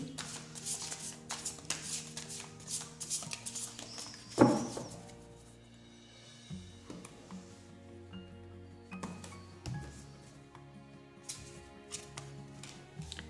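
Tarot cards are shuffled by hand in soft, papery riffles and slides, with one sharper snap midway and faint steady tones underneath, close and quiet with no talk.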